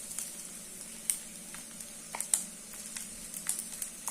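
Soft sizzling in a pan of kolukattai as ground coconut paste goes in, a quiet steady hiss broken by a few sharp crackles and light scrapes, no voices.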